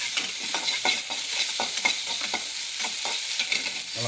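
Chopped onions sauté in a pan under a steady sizzle, with regular scraping strokes of a spoon or spatula roughly twice a second, close and fairly loud.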